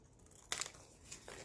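Scissors snip the corner off a paper tag among ephemera for a Frozen-themed journal, a quick crisp paper cut followed by a second fainter snip, close and alone in a quiet room.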